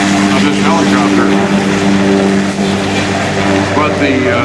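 An SH-3 Sea King helicopter hovering at an airshow, its rotor and turbine droning loudly and steadily nearby, a constant throbbing roar with no break.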